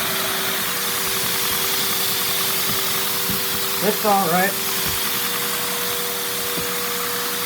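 LEGO-built V10 vacuum-powered engine running smoothly, a continuous close hum and whoosh with a steady tone, and someone briefly speaking over it midway.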